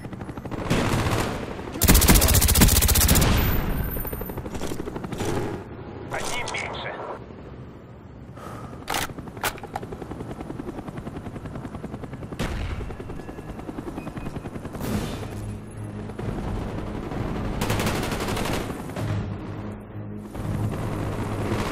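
An AH-1 Cobra support helicopter in the Call of Duty: Black Ops video game, a loud steady rotor drone under rapid bursts of gunfire and a few heavy blasts, with game voices at times.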